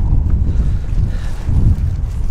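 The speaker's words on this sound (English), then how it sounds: "There's some, you know, strongest gust passing through." Strong wind gusts buffet the microphone outdoors on a blustery hiking day, a loud, continuous low rumble that swells and surges in waves, with no talking.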